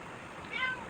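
A short, faint cat meow rises briefly over a low background hiss.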